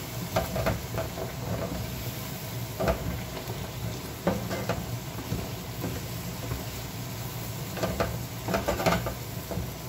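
Chicken stroganoff in cooking cream and boiling water simmers and sizzles steadily in a pan, with intermittent scraping stirs and utensil clinks recurring across the stretch, close and moderately loud.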